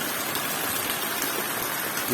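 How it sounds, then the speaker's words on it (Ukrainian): Steady rain falls during the first rain in four months in the Lviv region of Ukraine, an even dense hiss of drops on surfaces that continues without a break and with no speech over it. "сьогодні за 4 місяці у нас пішла, пішов отакий добрий дощик"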